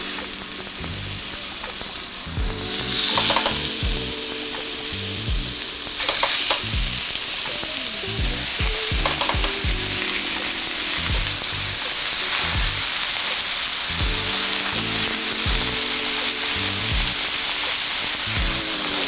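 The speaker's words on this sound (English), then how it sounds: "And I want to sear these ribs on all sides." Beef ribs sear in hot vegetable oil in a pan, a loud continuous sizzle and spatter with bursts of crackling as the meat is turned, no talking.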